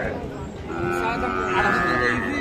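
A bull calf lows at a busy cattle market, a steady nearby moo rising over crowd murmur and voices of people bargaining.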